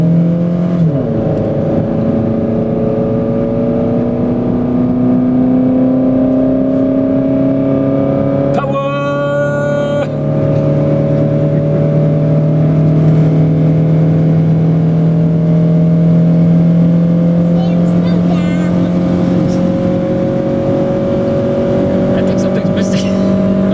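A worn Toyota Highlander accelerates on the highway after a transmission fluid and filter change, its engine rising steadily in pitch with a smooth drone under road noise and a brief break partway through.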